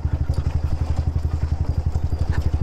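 Motorcycle on a rough, rocky hill road, its engine thumping in a fast, even pulse close by, with rattling and clatter over the uneven surface and no talking.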